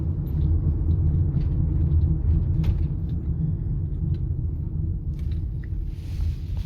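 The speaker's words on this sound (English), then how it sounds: "as soon as you drive at any speed, you can hear the noise" A car with a worn wheel bearing being driven, giving a continuous low droning rumble that stays steady and loud throughout, with no talking over it.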